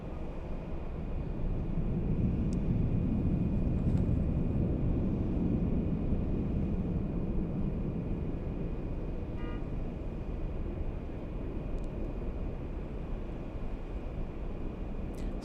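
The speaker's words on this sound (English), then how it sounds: "it looks like the 380 is making the turn a little early" An Airbus A380 airliner taxis and makes a turn, producing a steady, broad low jet rumble at moderate distance that swells slightly and then holds.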